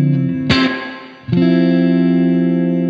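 Electric guitar played through a plate reverb effect: two strummed chords, each ringing out in a bright, smooth wash that sustains and decays gradually.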